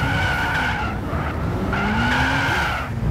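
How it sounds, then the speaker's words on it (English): Car tires squeal continuously while climbing a hill in third gear in Gran Turismo, with a steady engine roar beneath and tonal squeal swells rising and falling over about three seconds. "Why is this thing squealing so?"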